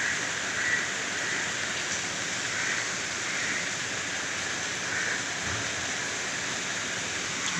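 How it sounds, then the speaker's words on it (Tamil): Heavy rain pours down steadily outdoors among trees, a dense even hiss of falling water with no break, moderately loud and close, with no voices over it. "மழை பெரிய மழை வந்துருச்சு பாருங்க வருது"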